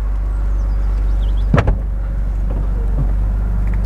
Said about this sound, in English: just popping the roof back up there again,